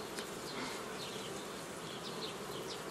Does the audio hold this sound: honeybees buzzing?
yes